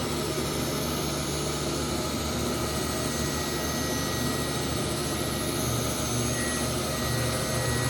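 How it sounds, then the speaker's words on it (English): A Foley 653 reel grinder runs a test grind on a mower reel, giving a loud, steady, dense whirring roar with a constant grinding hiss that stays even from start to finish, with no speech. "And now we can do our test grind."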